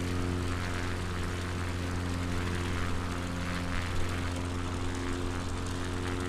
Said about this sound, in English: Look how much my plane is drifting.